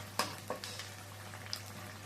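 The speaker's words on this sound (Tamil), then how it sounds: "நல்லா ஃப்ரை பண்ணிக்கோங்க" Bonda batter balls deep-fry in oil with a quiet, even bubbling hiss under a low hum, broken by a few soft clicks and taps; no one talks.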